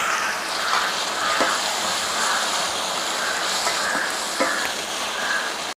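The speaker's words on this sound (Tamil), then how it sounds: "கட் பண்ணி வச்சுருக்க தக்காளி அதை போட்டு அதையும் வதக்கிக்கணும்" Chopped tomatoes sauté with onion and asafoetida in a hot pan for potato rice, giving a steady close sizzle with occasional stirring clinks and no talk.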